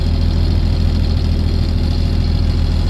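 A vehicle engine rumbles steadily and close by on a dry road in Maharashtra, a constant low drone with no clear rise or fade.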